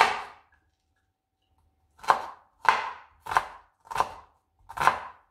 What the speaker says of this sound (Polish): zaczynamy od pokrojenia cebulki na malutkie kawałki